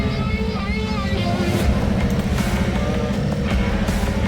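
A large crane truck pulls away with its crane folded after tree removal, a steady low engine rumble and drone running throughout, loud and near, with a few faint higher clanks over the top.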